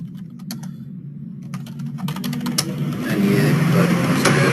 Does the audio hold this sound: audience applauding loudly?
no